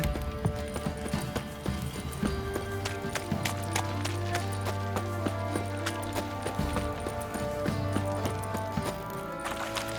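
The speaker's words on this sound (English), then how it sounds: "Time to water the horses." Horses gallop in The Witcher 3: Wild Hunt, with rapid rhythmic hoofbeats running steadily over a continuous bed of game music and ambient sound.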